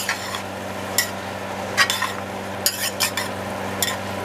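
A spoon stirs greens, sausage and cooked mirepoix in a soup pot, giving scattered scrapes and clinks over a low steady background hum, with no talking.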